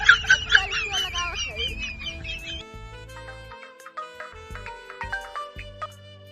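A mobile phone ringtone plays during a rural comedy sketch about calling a doctor. It starts as a bright, warbling melody, then continues as a quieter, steady series of electronic tones with faint voices beneath.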